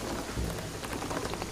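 Steady rain pours down in a thunderstorm, a dense close hiss of drops striking surfaces with no voices.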